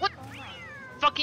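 A catcoon, the raccoon-like cat creature in Don't Starve Together, gives a drawn-out game meow with a rising then falling tone, close and clear, bracketed by a player's short exclamations.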